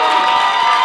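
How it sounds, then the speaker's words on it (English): A live comedy show audience bursts into loud cheering and applause, a dense, sustained crowd roar heard up close for a brief moment. "y'all give a round of applause for Amelia one time real quick"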